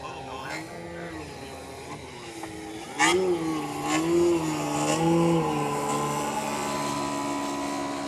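A Champion Xtreme Decathlon 122-inch RC plane engine with a vibration issue, a steady droning tone whose pitch bends and wavers, growing louder after a sharp rise partway through, with faint voices nearby.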